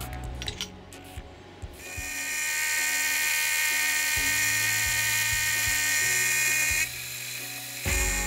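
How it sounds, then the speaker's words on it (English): A milling machine squares up a section of 1/4 inch O1 tool steel. After a few light clicks, a loud, steady, high whine starts, holds for several seconds, dips briefly near the end, then rises again. "I cut off a section and then squared it up on the mill"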